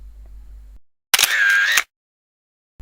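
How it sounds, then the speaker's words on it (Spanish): Shutter release pressed on a DJI Osmo Mobile handheld gimbal camera, giving one short, crisp mechanical click-burst that lasts under a second, close and loud after quiet, with no talking. "pulsar una vez el botón de obturador"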